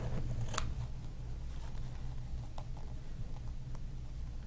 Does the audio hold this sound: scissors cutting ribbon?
yes